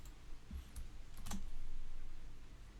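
A few quiet computer keyboard key presses as a copy shortcut is entered, brief clicks under low room noise.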